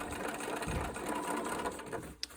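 Sewing machine stitching a jeans pocket with a reinforcing stitch at the top, a dense, steady mechanical whir close up, ending with a sharp click as it stops.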